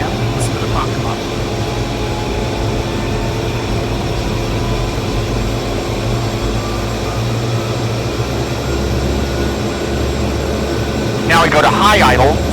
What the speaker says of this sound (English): Now we advance the prop to give ourselves some RPM. Listen to the prop come up.